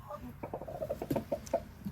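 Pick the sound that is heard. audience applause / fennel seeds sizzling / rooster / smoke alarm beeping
rooster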